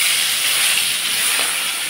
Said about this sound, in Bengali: সেই তেলের উপরেই এখন আমি মাছগুলো ভেজে নেব। এখন মাছগুলো ছেড়ে দিচ্ছি।